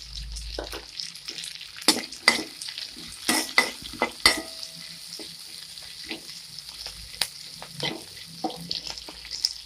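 Two large chopped onions fry in oil for paneer Manchurian, sizzling steadily beneath repeated sharp scrapes and clatters of stirring in the pan, close and fairly loud with no talk.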